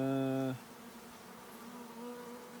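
A sustained honey bee buzz with a steady tonal hum that cuts off after half a second, leaving a fainter, lingering drone.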